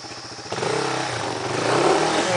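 A dirt motorcycle on a trail revs up and accelerates, its engine rising from a rattling idle into a loud, sustained, climbing roar close by.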